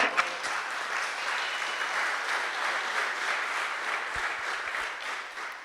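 A church congregation applauds for the Lord during a sermon, a steady, even wash of many hands clapping at moderate distance with a few low thumps near the end.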